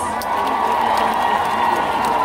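A large outdoor political crowd cheers, whistles and claps steadily for the president, with shouts mixed into a dense, continuous roar of applause.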